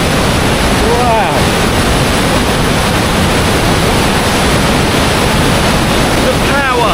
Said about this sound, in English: The power of this water going underneath me now is absolutely incredible.